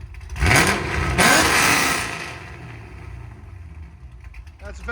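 An LS3-swapped C5 Chevy Corvette running with its exhaust valves open revs hard and loud twice in quick succession, then settles back to a rumbling idle, close by.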